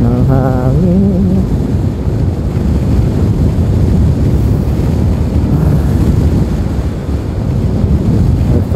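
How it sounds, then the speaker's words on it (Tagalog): Strong wind buffets the microphone outdoors in San Jose City, Nueva Ecija, producing a loud, continuous low rumble and roar with gusty swells, and a brief tonal hum near the start. "Sarap ng hangin."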